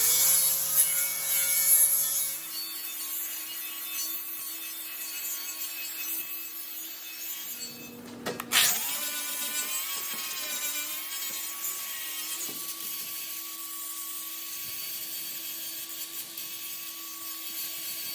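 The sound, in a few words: flap disc grinding welds on an iron gate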